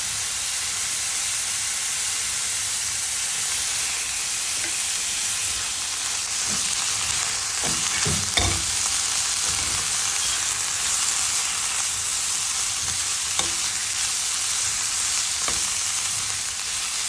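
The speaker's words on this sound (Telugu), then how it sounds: "కొంచెం కొబ్బరి వేసుకొని వేయించుకొచ్చింది" Beetroot and grated coconut frying in a non-stick pan, a steady close sizzle and hiss with occasional soft scrapes and knocks as the mix is stirred.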